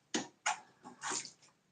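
Spoon stirring coconut water in a glass, a few short sloshing, splashing bursts close by with brief pauses between.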